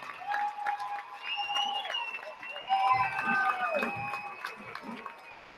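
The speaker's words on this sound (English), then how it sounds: "Let's give him a nice round of applause." Crowd applause in a high school basketball gym, steady clapping and cheering rising and falling across the clip, with shoe squeaks ringing out and an announcer speaking over it.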